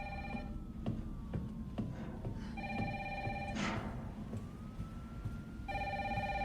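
A telephone rings in the Resident Evil 3 video game, with repeated bursts of an electronic ring that start, pause and resume over a low game ambience and a faint sweeping tone.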